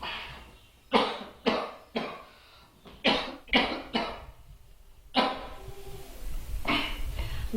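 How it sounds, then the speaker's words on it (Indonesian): A man coughs repeatedly, a series of sharp, harsh bursts in uneven clusters with short pauses between them, close and clear over a quiet background. "Udah dari 3 bulan kemarin loh mas batuk-batuk terus, nggak sembuh-sembuh."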